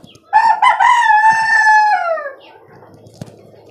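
A rooster on a rooftop poultry farm of local and tiger chickens gives one loud, close crow, followed by softer clucking and farm ambience.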